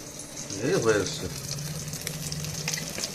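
Fish fries in oil with a steady sizzle, crackling faintly in the background, while a voice speaks briefly over it near the start.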